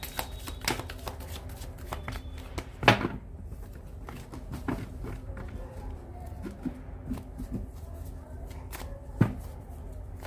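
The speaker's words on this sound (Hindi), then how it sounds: "एक शफल और लूंगी प्रभु जी।" Tarot cards shuffled by hand, a soft, steady riffling close up with a few sharper slaps of the deck and faint background noise.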